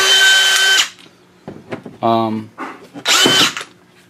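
A DeWalt DCF620 drywall screwgun whirs loudly in two short bursts, one at the start and one near the end, with someone talking in between.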